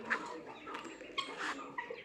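A hen kept in a room gives several short, close clucks in quick irregular bursts over a quiet background.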